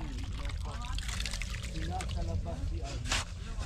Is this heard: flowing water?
yes